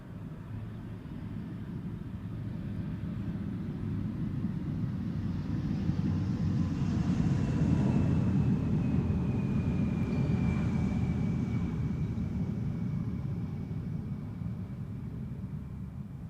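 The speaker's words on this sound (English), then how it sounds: "Luckily we are seeing an Embraer 175 that is coming this way, arriving from Trondheim." KLM Embraer 175 airliner arriving at Amsterdam Schiphol from Trondheim, heard as a broad jet roar that swells to a peak midway and slowly fades, with a faint whining tone gliding through it.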